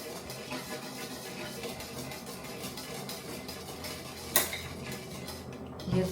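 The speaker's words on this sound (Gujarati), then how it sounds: "હું કન્ટિન્યુઅસ એને હલાવું, નહીંતર ખોટા પડી જશે તો મજા નહીં આવે ગ્રેવીમાં" Gravy is stirred in a cooking pot with steady metal utensil scraping and clinking under a sizzling cooking hiss, and one sharper clank stands out near the end.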